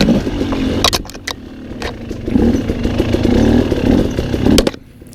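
Motorcycle ridden along an overgrown trail, its engine droning steadily and close with brief throttle changes, plus clattering and swishing brush; near the end the engine note falls away.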